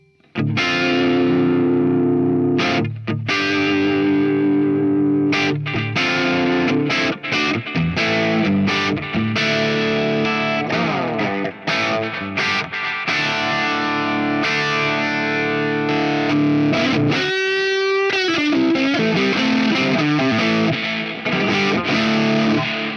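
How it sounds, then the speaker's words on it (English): Loud distorted electric guitar with heavy, smeared delay repeats pushed hard into the front end of an overdriven amp, saturated and gritty, playing continuously with a brief warbling, pitch-swept moment near the end. "I'm hitting the front end of the amp like a ton of bricks, which will distort the delay even more"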